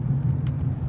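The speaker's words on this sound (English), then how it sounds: "This car's pulling up right now." A car pulls up close by outside a house, a steady low engine rumble holding even and fairly loud throughout, with no talking over it.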